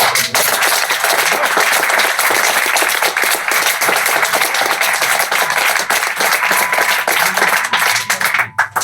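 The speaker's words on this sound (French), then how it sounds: "je pense qu'on peut les applaudir" Applause at a French aikido federation teacher-training graduation event for the instructor teams, a dense, sustained burst of clapping from the crowd, loud and steady, tapering off at the very end.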